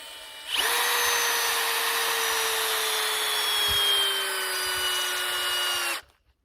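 A power drill runs steadily for about five seconds, driving a long 6-inch screw into a log for a no-hinge gate at an off-grid mountain cabin. The whine is loud and close, with a slight dip in pitch under load, and it stops abruptly.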